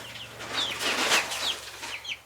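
Chicks cluck and chirp softly in a short burst of repeated calls, with a steady low hum running underneath.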